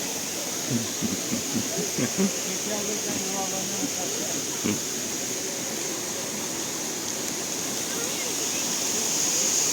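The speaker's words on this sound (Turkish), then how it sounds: "Ormanlı şelalesi." Ormanlı waterfall on Kapıdağ in Turkey, a loud steady rushing roar of falling water filling the whole scene, with people's voices briefly audible beneath it at the start.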